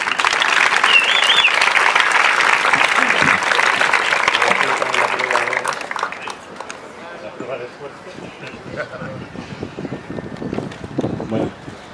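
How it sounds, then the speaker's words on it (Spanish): An audience at a poetry reading in a regional library applauds a poet, dense and steady clapping for about six seconds before it thins out to scattered claps under some talking. "un aplauso para él"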